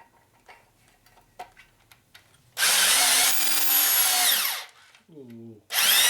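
Power reamer cutting lubricated transmission bushings on a 1961 Harley-Davidson Sportster XLCH motor rebuild, a loud sustained whine lasting about two seconds after quiet handling clicks, then a brief low rumble and another burst of cutting.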